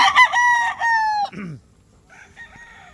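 Gray breeder rooster crowing once, loud and close, a long harmonic call that ends in a short falling note, followed by faint clucking.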